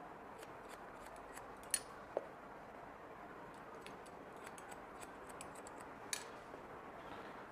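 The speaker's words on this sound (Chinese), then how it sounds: "把下面鬓角长出来的剪掉" Scissors trim hair at the sideburns, producing quick light snips in irregular clusters with a couple of sharper clicks, close and quiet, no talk.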